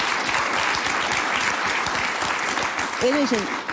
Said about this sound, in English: she gets applause